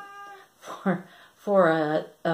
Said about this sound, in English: Now I'm getting distracted by meows